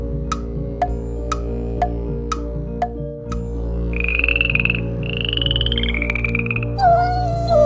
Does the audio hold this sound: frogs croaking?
yes